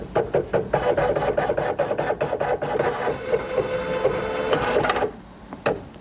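A Sapphire 85 embroidery machine stitches a Valentine's mug rug, tapping out a fast, regular run of needle strokes under a mechanical whir, then pausing briefly before a few last stitches.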